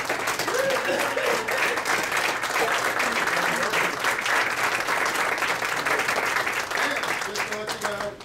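A crowd at a Thaddeus Stevens remembrance event applauds the authors with full, continuous clapping that holds loud throughout. A few voices mix into it.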